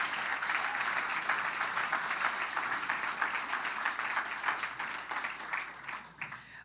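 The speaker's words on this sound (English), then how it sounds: "I think we just need to applaud him just for those accolades right now." Audience applause at an arts awards gala, a dense, steady wash of many hands clapping in a large room, holding strong throughout and easing slightly near the end.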